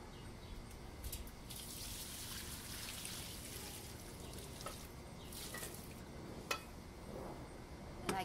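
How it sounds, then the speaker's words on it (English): Water scooped with a pot from a container and poured while watering, soft splashing and trickling close by, with a few sharper clinks and drips, fairly quiet and without talking. "I keep scooping and moving this cart from container to container until it's empty"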